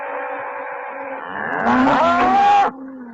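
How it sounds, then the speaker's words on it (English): Dairy cows on a farm with a newborn calf, a single long, loud moo rising and bending in pitch, preceded by a lower lowing call, heard alone without voices. "Other cows always seem to show a strong interest in the new calf."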